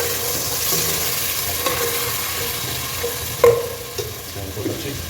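Onions and ginger garlic paste sautéing in a pan for mutton gravy, a soft, steady sizzle with a sharp clink of utensil against pan partway through and gentle stirring scrapes around it.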